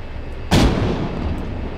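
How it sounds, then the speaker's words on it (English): A super long range gun on the HIGH MACS mech from Gungriffon, in Arma 3, lets off a single booming, heavy shot partway through, whose rumble lingers over a steady background hum. "Using the super long range gun of death"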